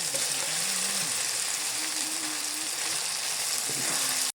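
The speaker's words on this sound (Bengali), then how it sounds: "এবারে আমি এখানে ভেজে রাখা মাছগুলো সব দিয়ে দেবো" Pieces of pre-fried fish go into a hot pan of spiced cumin paste for a spicy winter fish curry, giving a steady, close sizzling hiss throughout, with faint tonal voices drifting underneath.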